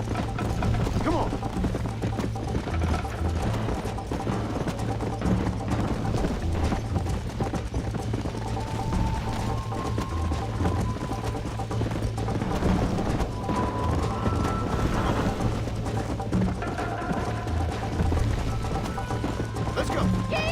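Horse hooves galloping in the video game Red Dead Redemption, a steady clip-clop pounding under a continuous bed of game noise and music, with voices talking over it.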